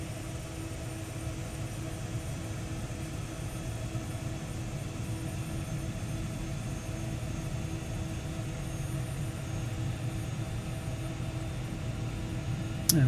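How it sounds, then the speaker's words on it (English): Engine number one of a Carenado Citation business jet spools up in a flight simulator, a steady broadband roar and hum that holds evenly throughout, loud and close. "And we get engine number 1 on."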